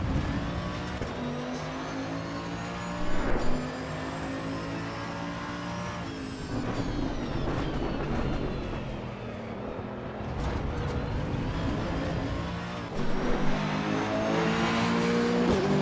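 Race car engine in the driving game Assetto Corsa Evo, revving hard and sustained through gear changes as the car weaves to warm its tyres, loud and continuous with brief tyre squeal.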